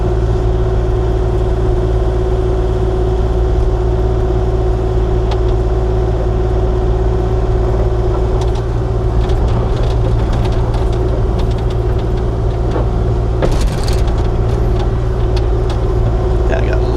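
A Kubota KX040-4 excavator runs continuously nearby, a loud steady diesel drone with low engine rumble while it drives and smooths ground, occasional clanks and a short louder burst near the end.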